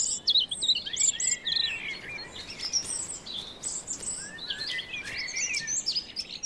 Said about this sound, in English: The robin is one of the first and loudest. His repertoire consists of over 250 different songs.